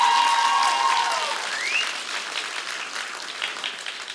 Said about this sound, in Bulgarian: Моля вашите аплодисменти